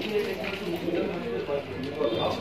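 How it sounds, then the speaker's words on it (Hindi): Soft, low coos of Moradabad desi pigeons repeating amid a murmur of voices and background noise, the birds close by. "मुरादाबादी देसी कबूतर भी है"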